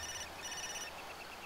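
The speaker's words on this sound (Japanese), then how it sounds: "携帯鳴りましたね" A mobile phone rings inside the video game Far Cry 2, a steady electronic ringtone with repeating high tones. It is fairly faint and sounds alone, with no talk over it.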